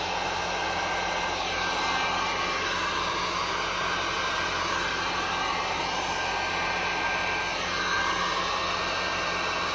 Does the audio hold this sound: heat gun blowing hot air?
yes